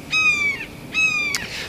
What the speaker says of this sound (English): got a hawk making all this noise here